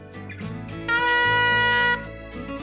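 Piccolo trumpet sounding a bright, clear note around C within the staff over a sustained backing accompaniment, held for about a second in the middle of the phrase, fairly faint and with no voices.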